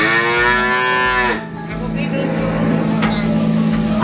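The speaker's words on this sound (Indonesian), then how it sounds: "Tiga ekor sapi yang besar" A large cow moos loudly and close by at a cattle pen, one long drawn-out low call lasting over a second. Steady farmyard background follows, with faint voices under it.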